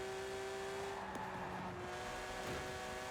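A car rounds a bend across grass, its engine droning steadily at close range with no voices over it.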